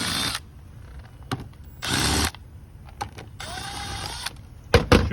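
A power driver run at low speed on a Volvo XC90 engine cover's T40 Torx fasteners, heard as two short loud whirs separated by quiet, then a longer softer run and sharp clicks near the end.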